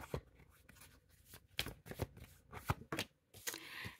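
Tarot cards being shuffled by hand in a series of crisp riffling bursts and soft slaps, close and fairly quiet, with short pauses between shuffles and no talking.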